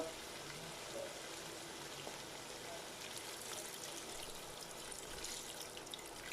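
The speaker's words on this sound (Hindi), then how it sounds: "अब मैं इसमें पानी डालूंगा।" Faint continuous hiss and sizzle of water poured into a hot pan of fried potatoes, carrots and peas, a steady wash of sound without speech.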